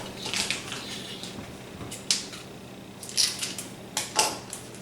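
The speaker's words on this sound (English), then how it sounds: "So I'm going to get some scissors so I can cut this open." Scissors snip open a yeast packet in a kitchen while pizza dough is made from scratch. A few short, crisp, close snips and crinkles come in separate bursts, with quiet pauses between them.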